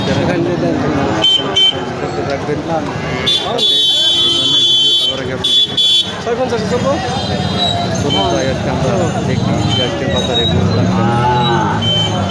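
Cattle and young calves moo loudly at the Lohai cattle market in Gazipur, with several drawn-out calls over a crowd of voices and occasional horn toots.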